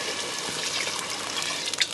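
Water gushes steadily into a pot of frying mung dal with whole green chillies for a dal mutton dish, a close, continuous pour with a slight hiss.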